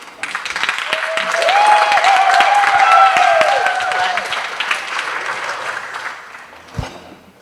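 Wedding guests at Stonefields Estate applauding a speaker as she comes to the stage, a sustained round of clapping that swells and then fades, with cheers and whoops rising over it.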